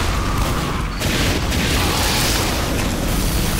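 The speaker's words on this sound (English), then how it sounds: "He probably blew himself up." A loud, dense explosion from the shooter game Team Fortress 2, a sustained rumbling blast that fills the whole clip with noisy bursts and debris, no talk over it.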